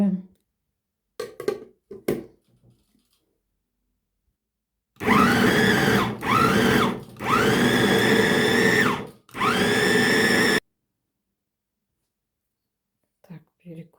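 Electric meat grinder mincing beetroot and vegetables, loud whirring bursts with motor speed dips, about five seconds of grinding in several segments between brief pauses, preceded and followed by quiet handling and faint voices.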